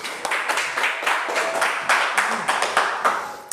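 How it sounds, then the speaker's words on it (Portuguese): A church congregation claps their hands together during a sermon, a loud dense patter of many claps that falls into a rough rhythmic beat, with no one speaking over it. "Bate palmas"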